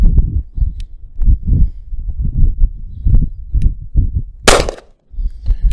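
A pistol fired double action at head-sized targets about 30 yards away: a quick series of dull, booming shots, with one sharper, brighter crack late in the string and no talking.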